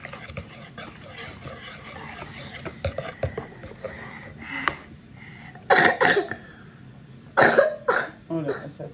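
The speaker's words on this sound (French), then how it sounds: "Oh là là, ça tousse." A person coughs several times in a home kitchen, with two strong bursts in the second half over quieter handling noises and low background sounds.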